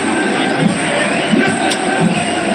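Stadium crowd at an India versus Pakistan Asia Cup final cricket match, a dense, sustained roar of cheering and voices with brief swells, loud and continuous.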